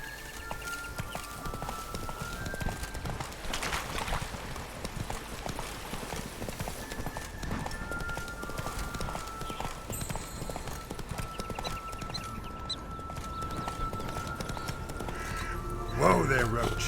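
Hooves of Roach, Geralt's horse in The Witcher 3, clip-clop steadily beneath game music, with brief whinnies and spoken voices over the top.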